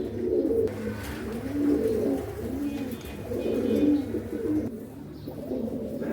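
A pair of Lotan pigeons at a pigeon sale coo in repeated soft, throaty phrases, close and clear, with no talking over them.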